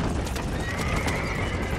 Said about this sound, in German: Meine geklauten Pferde und geklaute Kutsche.